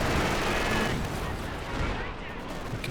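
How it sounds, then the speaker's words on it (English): Katyusha rocket artillery firing in Company of Heroes 2, with a dense, continuous roaring barrage that is loudest at the start and eases slightly, while voices talk underneath. "Katyusha coming out onto the Grenadiers."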